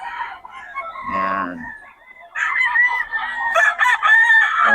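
A stag, a young rooster of Pampanga stock, crows once in a loud drawn-out call near the start, with someone talking over and after it.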